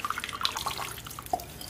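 Whey water from curdled milk drips through a strainer into a bowl below, a quick run of small bright drops and trickles, close and clear, then thinning out.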